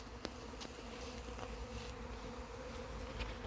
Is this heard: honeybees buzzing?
yes